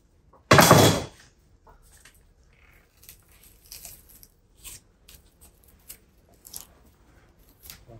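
A single sharp snip as a bonsai branch is cut from a Squamata juniper, a loud close crunch followed by faint small rustles and clicks of handling.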